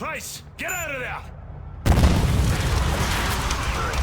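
A sudden heavy blast erupts in Call of Duty: Modern Warfare 3, loud and booming with a long rumbling roar after it, preceded by a voice and whooshing effects.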